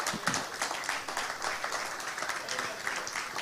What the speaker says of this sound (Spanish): dale un aplauso al Señor, gloria a Dios